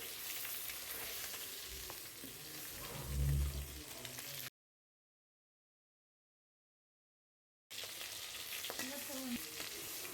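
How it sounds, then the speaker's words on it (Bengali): Pieces of katla fish fry in hot oil in a steady sizzle, near and moderately loud, broken by a gap of silence midway, with faint voices now and then. "এই মাছটা ভাজতে 2 থেকে 4 মিনিট মতো সময় লাগবে মাছটা"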